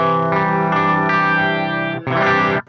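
A RecHead cassette-recorder guitar pedal colours a sustained, harmonically rich electric guitar chord with tape-style chorus and distortion, ringing loud and steady before a brief dip and a second strummed chord that cuts off.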